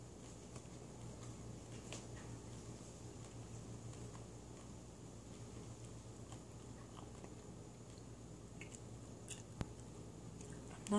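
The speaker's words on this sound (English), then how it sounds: "I'm not used to chewing gum with my mouth open" Soft, steady wet chewing and biting sounds close to the mic, continuous and low over a faint background hum.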